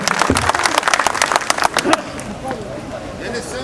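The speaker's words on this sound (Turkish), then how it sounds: "Şimdi o coşkulu alkışlarınızı istiyoruz" Crowd applause at an outdoor political rally in Yeşilköy, dense clapping for about two seconds that then thins into scattered claps and murmur, with a voice starting to speak as it fades.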